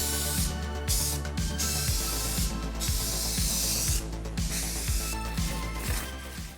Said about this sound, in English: I like to hit the speaker recess with some black spray paint.